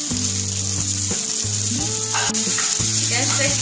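Tomato frying in a pan for a chicken samosa filling, a steady close sizzle running throughout with repeated low rhythmic clanks of a utensil against the pan.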